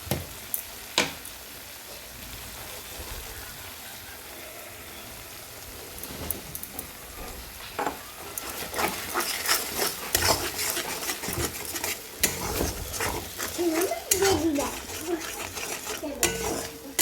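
Mustard paste cooked down with a splash of water in a pan for a Bengali mustard-poppy seed fish dish, with scraping spoon strokes and clinks of utensil on metal building in the second half over a low background hiss.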